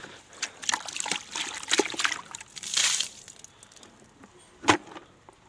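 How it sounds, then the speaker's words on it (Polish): Water is poured in little by little to rinse something during morning farm chores outdoors. It comes as several uneven trickling and splashing bursts with quiet gaps between them, ending in one sharp splash. "Na początku wlewam wodę po trochu, a żeby wypłukać trochę"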